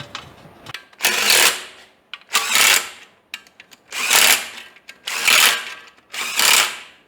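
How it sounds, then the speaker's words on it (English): Up close, a ratchet torques down transmission pan bolts on a Fairmont in five or six loud bursts of rapid clicking, each lasting about a second and separated by short pauses. "let me torque that down with a ratchet"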